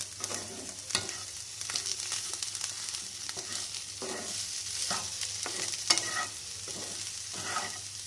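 Onions frying in a pan with a light sprinkle of salt, stirred gently: a steady broadband sizzle runs throughout, broken by several soft scraping strokes of the spoon, close and with no talking.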